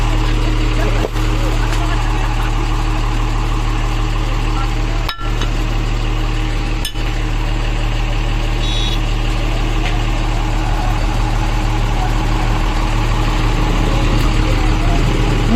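A vibro motor runs steadily throughout, a constant loud low hum with engine-like drone and a few sharp knocks, while people talk over it.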